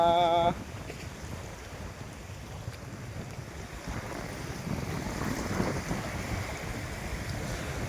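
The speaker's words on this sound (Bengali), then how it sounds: "এ হাওয়া।" Steady wind roars and buffets past a boat moving on a Sundarban river, a continuous broadband rush with water wash beneath, no voices.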